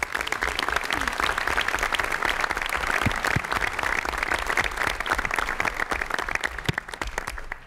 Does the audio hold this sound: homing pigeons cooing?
no